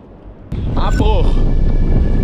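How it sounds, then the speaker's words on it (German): Strong wind blowing on open water during a fishing trip, buffeting the microphone in a loud, continuous rush that starts suddenly, with a voice briefly heard over it. "Der Wind hat extrem aufgefrischt, gerade innerhalb von 10 Minuten."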